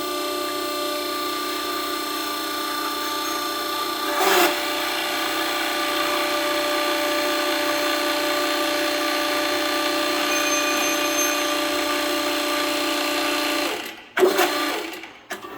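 A Kimball Midwest K 500 hose crimper runs with a steady, loud mechanical hum and a brief knock early on, then cuts off automatically near the end with a few clunks.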